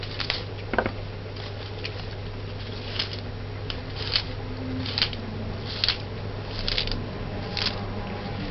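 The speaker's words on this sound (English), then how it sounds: "Dice the scallion." Scallion diced by knife on a cutting board, giving a steady series of light, soft taps at an even pace over a low kitchen hum.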